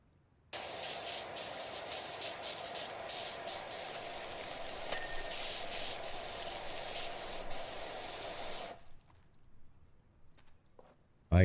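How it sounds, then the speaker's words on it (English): Running water from a pressure washer spraying in PowerWash Simulator 2, a steady loud hiss for about eight seconds before cutting off, leaving faint quiet sounds. "I guess it's the water in the tent"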